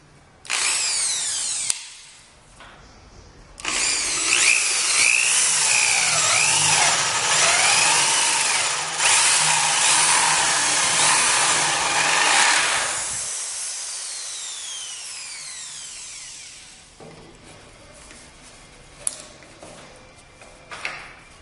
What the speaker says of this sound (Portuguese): primeiro furo com broca chata